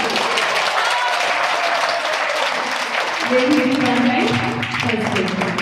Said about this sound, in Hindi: जोरदार ताली लगा दीजिए